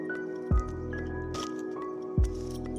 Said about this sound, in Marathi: थोडंसं आपण परतून घेऊया